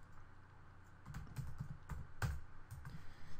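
Fingers type figures into a spreadsheet on a computer keyboard, a quick run of close, crisp key clicks that grows busier and louder after the first second, with no speech.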